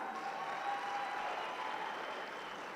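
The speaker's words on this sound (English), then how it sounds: "Let's give our panelists a round of applause." An audience at a real estate roadshow panel applauds steadily, an even wash of clapping that holds at the same level throughout.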